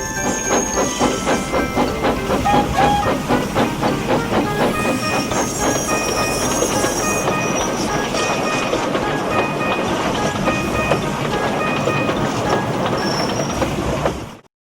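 Animated steam engine puffing down a branch line: a steady rhythmic chuffing with hissing steam and clickety-clack of wheels, running continuously and close before cutting off abruptly.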